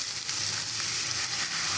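Masala of ginger, garlic, onion, garam masala, cinnamon, cardamom, bay leaf, turmeric, chili and salt frying in oil for a chickpea dish, giving a steady close sizzle with soft crackle throughout, no talk.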